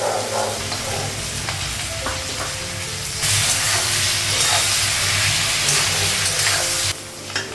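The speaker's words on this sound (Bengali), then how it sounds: "শিমটা লাগিয়ে দিই, শিম আলুটা পেঁয়াজটা ভাজবো।" Beans, potatoes and onion fry together in a hot pan, giving a steady loud sizzle and hiss with occasional stirring scrapes, growing brighter midway and easing slightly at the end.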